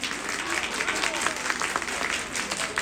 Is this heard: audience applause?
yes